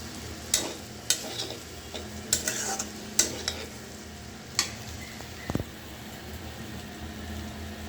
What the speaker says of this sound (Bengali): এই যে ফুলকপি, আলু, বেগুন আর মিষ্টি কুমড়। তো আমি ভাজিটা করে নিচ্ছি।